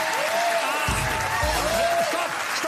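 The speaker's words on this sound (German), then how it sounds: "Geben Sie mir Applaus, bitte" Audience applause at a Franconian Fastnacht cabaret show, steady clapping from a crowd filling the room, with low thumps and a voice shouting over it.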